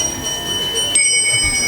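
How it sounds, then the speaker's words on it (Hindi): A temple bell rings during a devotional Bhagavat Katha gathering, giving sustained bright metallic tones that layer over each other against a busy room background. "घंटी को बजना,"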